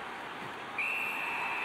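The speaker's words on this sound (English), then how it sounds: "Puck covered, whistle blown." A referee's whistle in the NHL 18 hockey video game sounds as a single sustained shrill blast partway in, over steady arena crowd noise.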